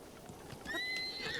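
A horse whinnies in the Zelda: Breath of the Wild video game, a rising, wavering neigh that swells loudly after a moment of soft background noise and sounds close.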